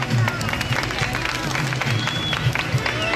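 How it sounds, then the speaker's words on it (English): Audience at a bird park show clapping for a sea eagle's catch, a broad patter of many hands mixed with crowd murmur and a low steady rumble, continuous throughout. "A big round of applause for him."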